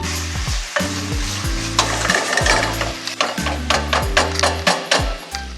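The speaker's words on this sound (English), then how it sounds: "See all this heavy stirring that we're doing now?" Heavy stirring in a frying pot while cooking a Jamaican ackee dish, a spoon scraping and knocking against the pot in a steady repeated rhythm over a constant close sizzle, with no talk.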